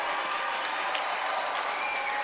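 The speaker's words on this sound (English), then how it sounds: "crowd is none too happy about that call" Hockey crowd at a White Bear Lake vs Stillwater boys section semifinal rink reacts to a penalty call with a steady, fairly distant roar of noise and scattered jeering, sustained throughout without a break.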